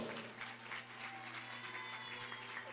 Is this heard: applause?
yes